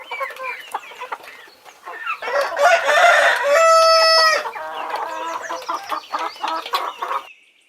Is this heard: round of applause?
no